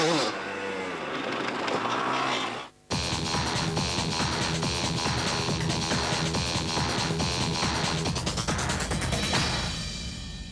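A motocross motorcycle engine revving hard through a jump, with the rider opening the throttle in mid-air to lift the front wheel. The engine is loud and close, a brief dip cuts it before a sustained roaring run.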